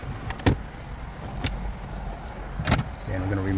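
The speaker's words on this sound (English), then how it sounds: "And remove the silver trims on the side." Silver trim panels being pried off the dashboard of a 2009 Hyundai Sonata, producing three brief, sharp plastic clicks and pops at irregular intervals over a low background rumble.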